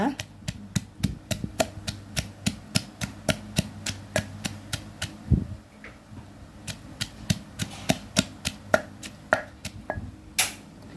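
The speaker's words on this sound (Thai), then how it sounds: "บุบถั่วฝักยาวนิดหน่อยก่อนนะคะ" Yardlong beans pounded for cooking, a steady run of sharp, close knocks at a brisk even pace with a brief pause midway, while someone talks over the pounding.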